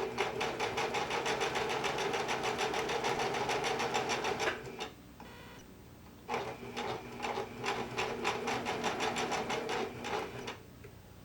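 A home sewing machine runs a straight stitch on a pinned knit sleeve with a 5/8 inch seam, whirring in fast, even rapid ticks, pausing briefly near the middle, then resuming in shorter bursts.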